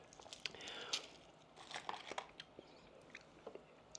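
Close, wet crunching and chewing of chicken balut eaten with jasmine rice, soft bites and smacking in an irregular rhythm, with faint crinkling.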